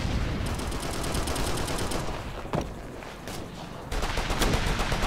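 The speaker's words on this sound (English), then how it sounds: "They're attacking us here!" Sustained automatic and rifle gunfire from the video game Operation Flashpoint Red River, with dense overlapping bursts continuing throughout, a brief lull midway, then heavy firing resuming loudly.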